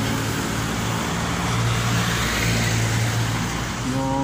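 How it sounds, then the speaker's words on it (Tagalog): Vehicles pass by on a busy southbound road, a steady loud wash of engine and tyre noise close by, swelling slightly as cars go past. "Yung dumadaan na sasakyan"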